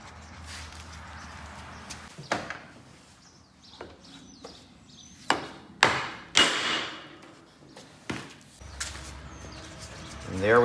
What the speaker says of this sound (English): we'll get a hammer and a punch